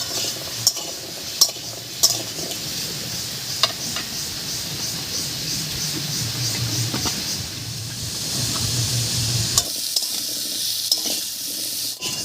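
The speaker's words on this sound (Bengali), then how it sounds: "মিষ্টি কুমড়োটাও হালকা ভাজা হয়ে গেছে" Sweet pumpkin pieces fry lightly in a kadai, with a steady hiss and sizzle broken by scattered clicks and scrapes of a spatula stirring against the pan.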